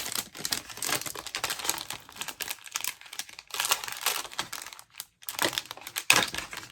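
Plastic packaging on a watercolor brush pack being ripped open by hand, close and loud, with bursts of crinkling and tearing over several seconds and brief pauses between, with no voices.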